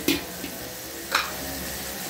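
Fatty mutton pieces and bones fry in oil with a soft, steady sizzle, broken by a couple of light clicks from stirring.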